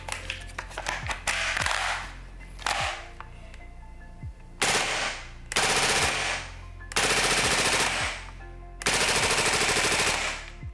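An airsoft replica running on gas fires several full-auto bursts, loud and close, each a rapid rattling stream lasting about a second, with short single or double shots at the start and pauses between bursts.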